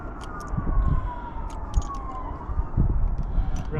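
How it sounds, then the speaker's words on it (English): Emergency vehicle sirens wail in the distance at an outdoor shooting range, a steady rising and falling tone running under louder low-frequency rumble and thumps. "I promise you those sirens are not for me"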